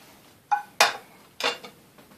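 Raw chicken pieces laid into a warm pan for parmesan crusted chicken alfredo, heard as a few brief clattering clinks of metal and cookware, close and fairly quiet.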